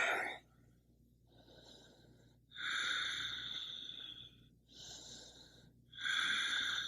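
Breath sounds during a seated forward fold in an Iyengar yoga practice, with loud airy exhales in repeated bursts separated by quieter gaps, close and clear over a low steady background hum.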